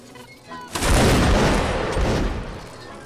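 A massed musket volley erupts in Mount and Blade Warband Napoleonic Wars, a loud, dense crackling roar of many shots that swells and then decays into a rumbling tail.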